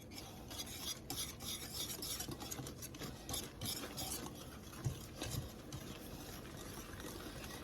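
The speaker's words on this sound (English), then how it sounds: "We're going to just take our whisk and stir this." A whisk stirs blueberry cake batter in a bowl, its busy, rapid scraping and swishing continuous and close for several seconds, with no talking.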